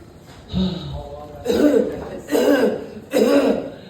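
A comedian's voice imitates a chimney sweep's hacking cough at an open mic, with a low throaty rasp and then three loud, rhythmic cough bursts close up.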